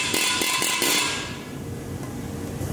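Billet Specialties wheel for an Impala build is struck with a hammer to center it on a fixture, with about five quick, sharp metallic blows close by, followed by ringing shop noise.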